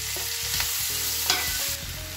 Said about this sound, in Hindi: प्याज को गोल्डन होने तक हम सॉटे करेंगे।